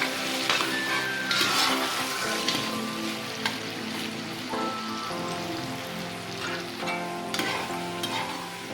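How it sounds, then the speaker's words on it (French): Tomato stirred into a browned frying mixture for a plantain and bean dish, with a steady loud sizzle and crackle under repeated scraping and clinking of the spoon against the pan. "je renverse directement la tomate à l'intérieur du mélange. Et puis, je vais bien remuer."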